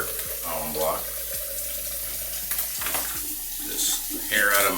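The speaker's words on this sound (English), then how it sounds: "Let me give this a rinse" Running water splashes at a bathroom sink as a face is rinsed after a razor shave, steady close flow with wet slaps and gurgles, a person speaking briefly over it.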